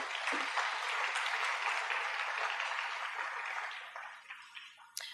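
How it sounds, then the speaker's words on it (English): An audience at a city State of the City event applauds steadily in a dense, sustained wash of clapping that gradually thins toward the end. "Let's give him a round of applause"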